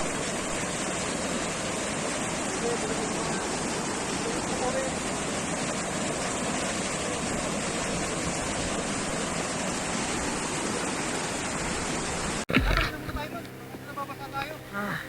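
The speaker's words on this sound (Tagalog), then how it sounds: "Pero dahil sa sobrang taas ng tubig at lakas ng agos ng ilog" A loud, steady roar of a flooded river with a strong current fills most of the clip, then cuts abruptly to a different, quieter scene near the end.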